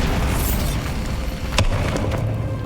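The Bombarda blasting spell from the video game Hogwarts Legacy goes off as a deep, booming explosion over a rumbling background, with sharp cracking bursts near the middle and again toward the end.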